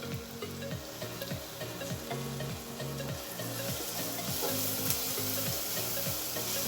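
Onion and tomato fry in a pan for a Goan prawn caldine, a bright sizzle under quick, rhythmic spoon scraping that repeats throughout, close up and without voices.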